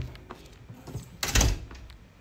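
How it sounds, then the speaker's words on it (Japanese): A door opens partway through, a brief mid-distance clatter and thump rising sharply around the middle against a quiet indoor room, with a few small knocks before it and no talking. "あとドアが開いてしまったから。"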